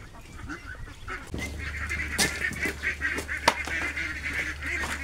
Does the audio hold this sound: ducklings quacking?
yes